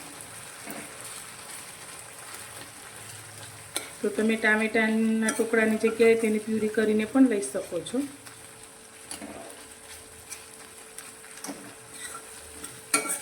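Tomatoes softened in a pan are pressed and stirred with a spoon, giving a steady sizzle with scraping and stirring clatter, loudest for a few seconds in the middle, while someone talks over it.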